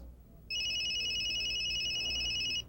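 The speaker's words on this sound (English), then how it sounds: "you can set alarms with different ringers for each one" A NeoPoint cell phone ringer sounds a steady electronic trill for about two seconds, then stops abruptly.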